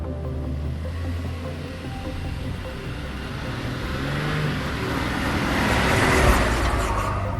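An INEOS Grenadier Trialmaster 4x4 on the move, a steady engine drone with road and tyre rumble that swells gradually as it picks up speed.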